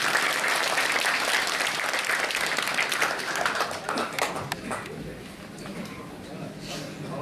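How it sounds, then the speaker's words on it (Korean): A crowd at an inauguration ceremony applauds steadily, a dense wash of clapping that thins and fades over several seconds, with a voice audible faintly underneath. "큰 박수 부탁드리겠습니다."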